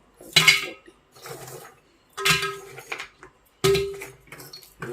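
Large chunks of charcoal clatter into a pot while a Dendrobium orchid is potted, three bright clinking bursts with short rattles trailing after each, close and with no speech.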